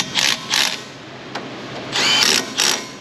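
A power tool clicks and whirs in several short bursts while tightening a 10 mm bracket bolt on a Silverado. There are about four close, loud pulses with a single click between them.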